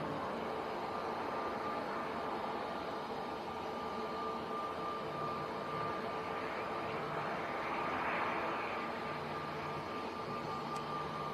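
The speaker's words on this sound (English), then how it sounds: "Aer Lingus ATR arrived on the other runway." An Aer Lingus ATR turboprop airliner arriving on a runway at Manchester Airport, a steady broadband roar with a faint whine that swells slightly near the end, heard from a distance with no talk.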